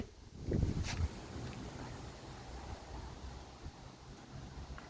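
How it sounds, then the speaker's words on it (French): Wind picking up ahead of a strong thunderstorm blows faintly and steadily, with a brief louder gust near the start before settling into a soft, airy rush. "le vent qui s'active"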